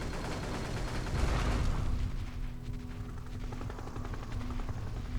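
Gunfire and a helicopter in an Xbox video game battle, with dense overlapping shots and booms building into a loud volley, then a steady rotor-like drone with scattered shots continuing.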